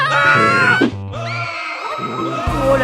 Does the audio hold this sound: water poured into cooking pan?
no